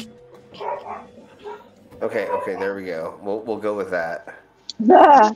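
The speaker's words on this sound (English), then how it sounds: "pardon my dog barking" A person talks briefly, then a dog lets out a loud, close bark at the end.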